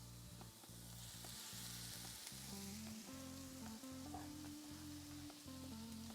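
Half a potato frying in a pan for frico, a faint, even sizzle running throughout beneath a low, steady tonal hum.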